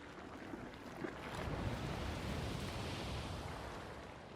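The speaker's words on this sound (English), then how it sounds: "What, was that a geyser? That's water, I can hear it." Faint rushing water of a geyser in a video game, a soft continuous gush that swells slightly and holds steady, heard from a distance.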